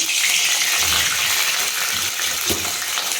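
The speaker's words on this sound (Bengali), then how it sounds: "আমি একটু গরম জল দিচ্ছি এর মধ্যে" Hot water poured into a sizzling pan of tempered spices and bay leaf over a low gas flame, giving a loud, steady hiss and crackle that runs throughout with no talking.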